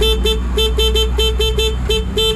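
A car horn honking in a rapid series of short toots, loud and close, with a steady engine hum underneath.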